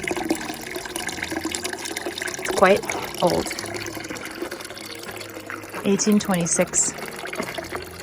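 Water running and trickling into an old stone animal drinking trough in a Bulgarian village dating from 1826, a steady continuous flow beneath a person talking nearby.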